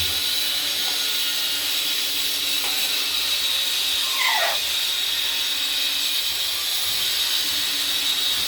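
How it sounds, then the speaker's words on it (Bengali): Snakehead (shol) fish pieces rubbed with salt and turmeric sizzle in hot oil in a kadai, a steady broadband hiss running the whole time with a brief sharper crackle partway through, close and unbroken. "মাছগুলো আমরা ভেজে নেব, ভাজা হচ্ছে দেখছেন"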